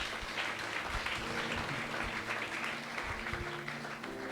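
A church congregation claps together in a steady, full round of applause that fills the room evenly, with a low hum of voices and music faintly underneath.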